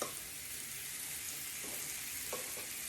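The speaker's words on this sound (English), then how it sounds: "I'm going to start cooking these cherries up." Fresh cherries simmering in their juice in a pan for a cherry pie, giving a steady bright sizzle with a few faint utensil taps, close and continuous, with no speech.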